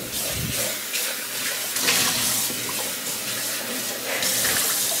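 Tap water runs steadily into a container while making a smoothie, a continuous close splashing rush with slight surges, no talk over it.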